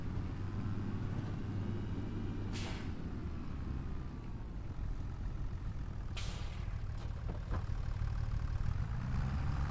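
Tractor idling in the logging game Riverbend Springs, a low continuous engine rumble broken by two sharp hissing bursts like air-brake releases, plus a fainter third hiss, with no talk.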